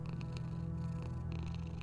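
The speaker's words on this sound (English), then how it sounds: "Oh, the cat's purring." A cat in a horror video game purrs in a steady, continuous low rumble, close and even throughout with no talking.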